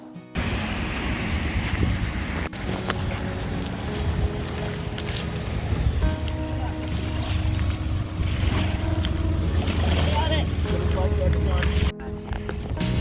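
Steady wind noise buffets a kayak paddling out across a lake near the beach at Peachland, a constant loud roar with water splashing throughout and a brief dropout near the end.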